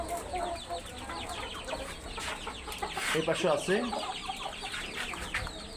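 Laiza and white Pahari chickens on a farm, a busy chorus of clucks and chattering calls rising in the middle, with someone speaking briefly over them.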